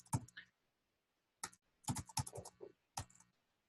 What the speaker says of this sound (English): I'm going to just go ahead and type this in